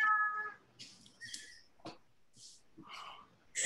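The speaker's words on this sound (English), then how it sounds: "Everybody's cats are just having a field day on this call today." A cat meows a few times on a remote call, giving brief, faint, breathy cries separated by pauses, with a little background noise.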